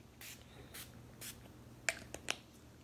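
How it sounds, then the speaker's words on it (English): Mary Kay makeup finishing spray misted onto the face in a few short, soft hissing bursts, with two sharper, closer spritzes near the end over a quiet room. "one thing I didn't do is using my makeup finishing spray"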